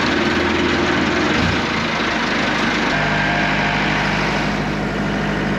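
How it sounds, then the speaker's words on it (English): Aircraft tug engine runs steadily on an airport ramp, a loud close idle with a low droning hum that shifts pitch twice as the revs change, continuous throughout with no voices. "I'm gonna get this tug, and we're gonna get over to Lone Star"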